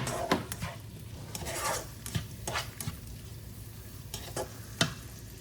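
Chicken sizzles and fries steadily in butter in a pan, with scattered stirring scrapes and clicks over the crackle; no voices.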